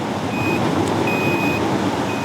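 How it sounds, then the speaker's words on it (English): An autopilot alarm aboard a 37-foot Shannon sailboat on an ocean passage beeps in a few long, steady electronic tones, repeating over a loud, constant wash of wind and sea noise. "We keep hearing the autopilot alarm going off, but we just have to keep hitting cancel"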